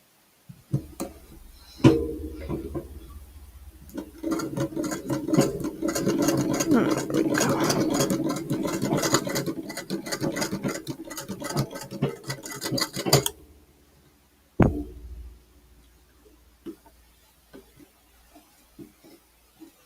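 A sewing machine stitches a fabric panel in a steady, rapid run of needle clatter lasting about eleven seconds, followed by a pause and a few short bursts.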